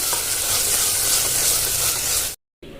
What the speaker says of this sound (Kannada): ಶುಂಠಿ ಬೆಳ್ಳುಳ್ಳಿ ಪೇಸ್ಟ್ನ ನೀಟಾಗಿ ಮಿಕ್ಸ್ ಮಾಡ್ಕೊಳ್ಳೋಣ